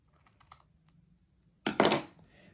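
Scissors trimming lace on a paper book page pocket: a few faint light clicks, then one short, close crisp snip-and-rustle burst, with no talking.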